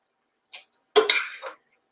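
Nettle soup spooned from a pot into a blender, with a couple of short metallic clinks and scrapes of a spoon against the container in otherwise silent air.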